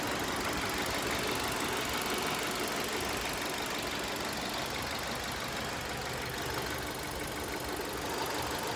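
A car engine idles steadily throughout at an outdoor online auction, a constant dense rumble with a slight uneven shake, moderately close and without talk.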